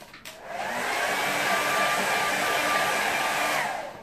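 A hair dryer blowing over a watercolour painting lying on a slight slope. It starts with a click, then a loud, steady whirring roar that holds for several seconds close by before cutting off.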